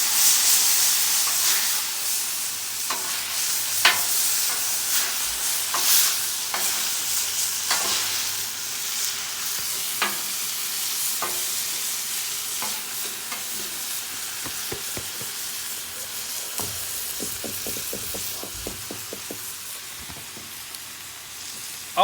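Thai chicken noodles sizzle on a hot Blackstone griddle with a steady frying hiss. Scattered scraping and tapping clicks from a spatula stir through it, close up, with no voices.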